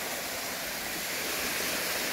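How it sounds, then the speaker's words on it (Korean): Water rushing over the top of Mujichi Falls on Unaksan mountain: a constant, close, full roar of falling water with no pauses and no voices over it. "여기는 무지치 폭포 상단입니다."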